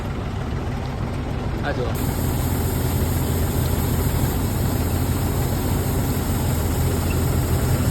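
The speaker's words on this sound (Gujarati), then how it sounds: "આ હાર્વેસ્ટરનો અહીંયા ટ્રોલીમાં ટોકો ખાલી થશે" A combine harvester's engine runs loud and steady while unloading grain into a tractor trolley in a field, a dense, continuous low rumble throughout with a brief spoken remark over it.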